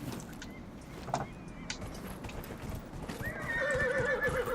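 A horse in the video game Dragon Age: Inquisition gallops with quick hoofbeats, then lets out a loud, drawn-out whinny near the end.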